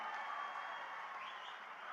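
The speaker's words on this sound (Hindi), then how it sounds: "जोर से ताली बनाइए दोनों प्रत्याशी के लिए" Applause from a large crowd at an outdoor political election rally in Dadra and Nagar Haveli and Daman and Diu, greeting two candidates; a steady, distant wash of clapping that holds evenly throughout, with no clear voices.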